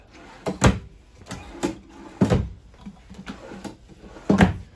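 Drawers along the side of a 2021 Avenger 27RKS travel trailer are pulled open and pushed shut, giving about five sharp wooden knocks and slides spaced unevenly across the moment, fairly close and alone.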